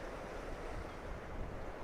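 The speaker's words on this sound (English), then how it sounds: "the pier's still getting some waves breaking over the top of it" Sea waves surge and break over a stone pier on the Fife coast at St Monans, a steady close roar of surf with some wind buffeting the microphone.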